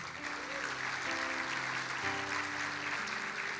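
A church congregation applauds in a steady, even wash of clapping, with sustained musical tones playing softly underneath.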